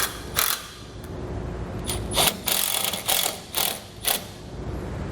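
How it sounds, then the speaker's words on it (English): A power driver sets self-tapping screws while mounting an LED combination tail light bar on a wide trailer, in several short, loud whirring bursts with brief pauses between them. "then we'll attach it using our self-tapping screws"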